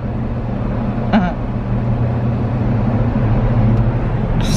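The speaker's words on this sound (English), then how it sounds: "it's so loud in the Jeep" Steady, loud low road rumble inside a moving Jeep, a constant drone filling the whole stretch with a brief higher squeak partway through.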